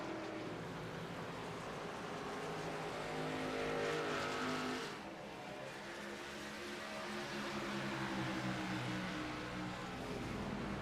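Xfinity Series race cars roar around the track at New Hampshire, a continuous loud engine drone that swells as a pack passes, with tires squealing and no talk.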